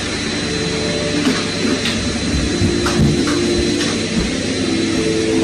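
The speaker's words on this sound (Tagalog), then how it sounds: "nakunan ng video ang vacuum cleaner na ito na animoy minamanipula ng masamang espiritu" A household vacuum cleaner runs steadily in a home, a constant droning whir with faint intermittent clicks and knocks, moderately loud, with no one speaking.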